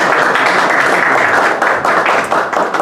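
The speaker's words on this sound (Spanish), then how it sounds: "Así que damos un fuerte aplauso." Loud, dense applause from an audience at a memorial event honoring Monsignor Óscar Alzamora, a steady wash of many hands clapping together, close and continuous without a break.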